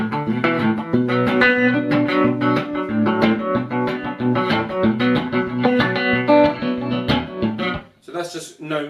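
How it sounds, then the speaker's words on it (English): Slide guitar played through a Carl Martin Surf Trem tremolo pedal with no reverb or delay: loud, close sliding notes and chords with a steady pulsing volume wobble, ending in a brief pause and a final strum. "that's just the sort of tremolo giving you this kind of like a woo, woo, woo, woo"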